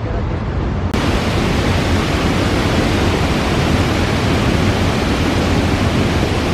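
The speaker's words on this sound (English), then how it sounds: "Sound of rushing water?" Loud, steady rush of water pouring through the canal locks in Seattle, a dense unbroken roar filling the scene from start to finish with no pauses.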